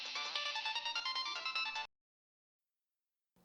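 A phone ringtone plays a bright melodic tune for about two seconds, stops, then starts again briefly; the call is from the father. Nothing else is heard.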